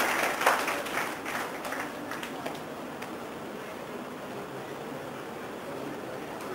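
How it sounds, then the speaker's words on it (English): Applause from a conference audience for a speaker at a live-streamed event, with scattered claps strongest at the start that fade into a soft, hissy room background. "Please have a huge round of applause for Dr. Thomas Sundaram sir."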